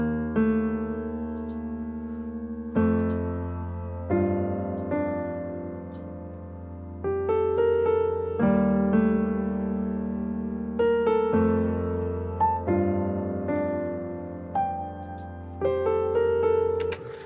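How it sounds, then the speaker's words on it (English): Chords on the Keyscape cinematic piano, played in FL Studio for a spiritual Amapiano track, ring out as sustained, rich harmonic stabs changing every couple of seconds, clear and alone with no voice. "So I'll play the chords alone. They sound like this."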